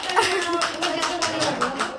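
Several people clap hands at a family anniversary celebration, a run of quick, fairly close claps over about two seconds with voices chattering underneath.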